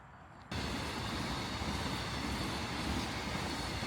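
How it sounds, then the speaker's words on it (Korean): Freight train passing on tracks just beside a roadside fence, its loud steady roar suddenly rising and then holding as a dense rumbling wash of wheels and cars rolling by up close. "이번에는 화물열차가 지나갑니다."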